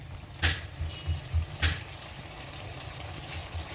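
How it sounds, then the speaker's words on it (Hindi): Ginger garlic paste frying with onions in a pan for Lahori chana, a steady low sizzle with a few soft clacks of stirring, and no voices. "अब हम इस पर अदरक लहसुन का पेस्ट डालेंगे 1 चम्मच। इसको भी 2 से 3 मिनट भून"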